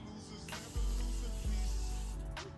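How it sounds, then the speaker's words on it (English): Two short, close bursts of spray hiss in quick succession, each a soft airy whoosh. "I'm gonna use the Morphe setting spray"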